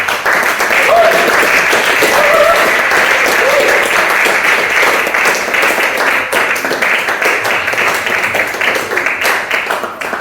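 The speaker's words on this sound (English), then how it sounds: "Another big round of applause, please, from Nick." Audience applause following a stand-up poetry set, a dense, sustained burst of clapping from a crowd that gradually thins toward the end, with some voices mixed in.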